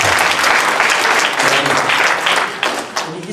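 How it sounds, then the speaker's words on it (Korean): Audience at a Korean church mission conference clapping loudly and steadily for over three seconds, a dense close crowd applause that dips slightly near the end. "우리한테 영광의 박수를 드립시다"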